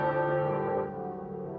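Church bells of St Magnus the Martyr in London ring out in alarm, a dense, sustained wash of overlapping metallic tones with long humming resonance, loud and close, fading slightly toward the end with no voices.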